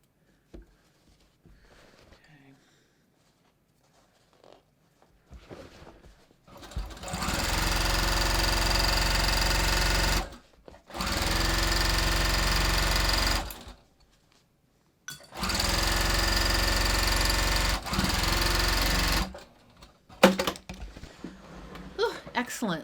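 A sewing machine stitches over a heavy center back seam of denim jeans in three loud, steady bursts of a few seconds each. Quiet handling noises and brief pauses fall between the bursts.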